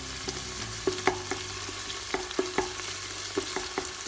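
A spoon stirs pepper paste into green beans frying in olive oil with onion and garlic, scraping and clicking against the pan in irregular strokes over a steady close sizzle.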